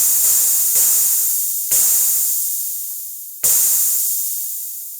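Three long, hissing hi-hat strikes synthesized on an Elektron Syntakt, each a bright noisy burst that decays slowly, spaced irregularly with no voices.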